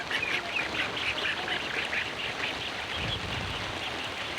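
Geese honk and quack repeatedly in a restless chorus, set against a steady wash of rain.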